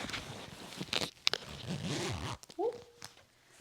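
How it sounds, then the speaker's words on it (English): A fleece-lined jacket is zipped up, with a couple of short ratcheting zipper pulls among rustling fabric, and a voice briefly speaking nearby. "Now for the true test is to zip up the jacket."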